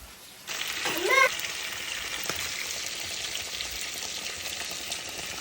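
Ginger and garlic sizzle as they are stirred in hot oil in a pan, a steady close frying hiss that starts abruptly, with a brief scrape or clink of the stirring spoon early on.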